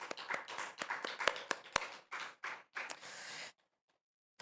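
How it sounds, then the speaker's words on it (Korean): Congregation in a church claps during a Friday prayer service, a rapid, fairly close burst of clapping that stops abruptly into silence. "우리 하나님께 영광의 박수 올려드릴까요?"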